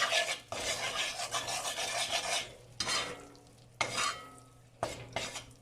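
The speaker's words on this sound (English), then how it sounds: "I'm going to add this to the oil. Okay, I'm gonna let this cook for 1 minute." Curry paste from a packet scraped and stirred in hot oil in a pan, loud rasping strokes in bursts separated by short pauses, with a faint sizzle underneath.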